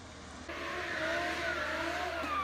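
A car spins its tires in a parking lot, the engine surging and revving with a rising whine that kicks in after half a second and holds loud and continuous to the end.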